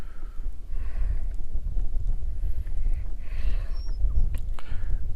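Gusty wind on a lake buffets the microphone in a steady low rumble that swells and eases, loud and close, with faint hissing gusts on top.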